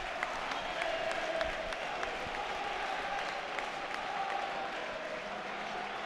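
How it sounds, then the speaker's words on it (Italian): Football supporters in a stadium at kickoff, with the home end's choreography underway: a steady, distant crowd roar with scattered clapping and no clear breaks. "Ci godiamo questi istanti iniziali di tifo."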